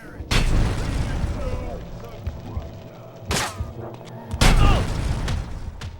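Explosions in the video game Manhunt: three heavy booming blasts at irregular intervals, loud and close, with crackling debris and rumbling between them.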